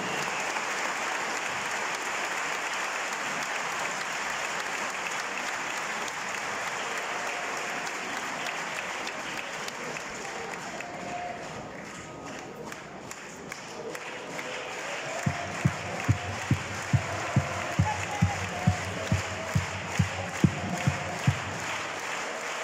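Large crowd at a Frente Amplio political rally applauds loudly and continuously, then shifts into rhythmic, unison clapping with sharp regular beats in the final seconds.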